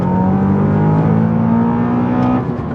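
A modified Mazda 6 MPS engine holds a loud, steady high-rev drone close by for over two seconds, its tone climbing slightly before easing off at the end.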